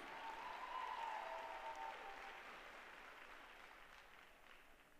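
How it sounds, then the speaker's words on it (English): Spectators at a college gymnastics meet applaud the beam champions, a wash of clapping from a crowd in a large arena that starts full and gradually thins and fades over a few seconds. "Round of applause, please."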